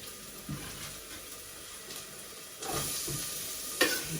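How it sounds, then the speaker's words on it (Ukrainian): Onion and carrot sizzle steadily in a hot pan, with occasional stirring scrapes and a louder burst of frying midway, close by and without talk. "Підсмажилась цибулька наша. Я закладаю моркву."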